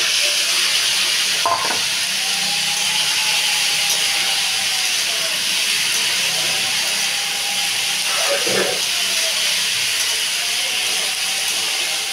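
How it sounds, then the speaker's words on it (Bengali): Cut potatoes fry in a pan for chola alu bhuna, a loud continuous hissing sizzle with a few soft scraping stirs and a couple of brief knocks, close and steady with no talking. "আলুটাকে এক মিনিট নাড়িয়ে নিয়ে এর মধ্যে দিয়ে দেবো ছোলা"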